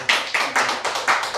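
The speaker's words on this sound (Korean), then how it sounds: "이런 차원에서 박수 한번 또" A church congregation at a Sunday service claps in a few loose bursts, about five sharp rhythmic pulses close by, with no talking.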